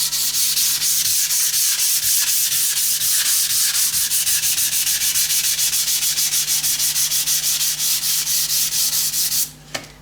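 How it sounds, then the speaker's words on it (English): Steady hand sanding with 320 grit sandpaper on a flexible rubber pad, rapid continuous back-and-forth rubbing strokes close up and loud, stopping abruptly near the end. "this is 320 grit sandpaper, and it's on a sort of a flexible rubber sanding pad"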